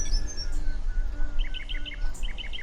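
Students imitate bird calls with quick, high chirping and tweeting voices, short repeated bursts over a low steady background hum.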